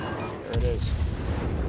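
Naval gun volley in the World of Warships video game, a heavy broadband boom at about half a second that rumbles on with low rolling thunder and crackle through the rest of the clip.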